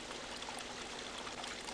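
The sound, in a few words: waterfall flowing in the video game Resident Evil Remake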